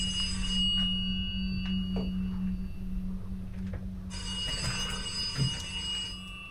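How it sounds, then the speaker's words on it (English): Telephone ringing inside a video game, a steady electronic ring tone repeating for a couple of seconds before fading, with game background noise continuing after. "Is that ringing? Phone's ringing."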